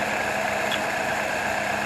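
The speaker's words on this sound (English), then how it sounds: "I got it idling halfway decent. Sitting here on 1100 RPM." A 1977 Toyota Celica engine idles at about 1100 RPM with an even, continuous rumble close by.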